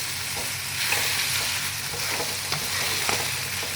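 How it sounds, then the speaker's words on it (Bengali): Green chillies fry in a pan while being stirred, giving a steady close sizzle with occasional soft scrapes of the spoon. "ততক্ষণে এটা আমি একটু নাড়াচাড়া করে নিই"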